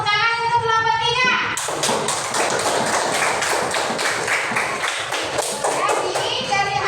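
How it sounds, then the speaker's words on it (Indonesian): A classroom full of students breaks into brisk, rapid clapping for Group 3 right after a teacher's brief spoken line, with the claps filling the room steadily for several seconds. "Ya, tepuk tangan untuk kelompok 3."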